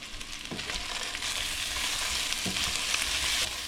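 Meatballs brown in a frying pan, giving a steady, fairly loud sizzle and crackle, with a couple of brief scrapes or bumps as they are turned.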